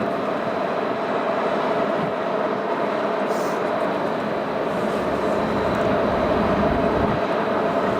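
A Ryanair airplane landing at Manchester Airport produces a continuous broadband engine roar and rumble at moderate level, steady for the whole stretch with no clear speech.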